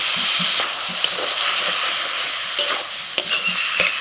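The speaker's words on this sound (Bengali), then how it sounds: "এবার মিনিট পাঁচেক সময় নিয়ে ভালো করে কষিয়ে নিতে হবে" Spices with chopped tomato, chilli, turmeric and cumin powder sauté in a pan with a little water for a prawn dish, a loud close continuous sizzle with scattered clicks of stirring.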